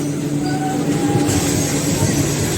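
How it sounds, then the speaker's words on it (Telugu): Kacheguda–Peddapalli DEMU passenger train running, a steady rumbling drone with faint tonal whines, recorded close to the moving train. "Kachiguda Peddapalli passenger demo train"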